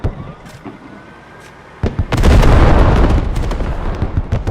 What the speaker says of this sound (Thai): ข้างหน้าเหมือนจะเป็นอาร์ติลิลี่ครับ ระเบิดปูพรมนะครับผม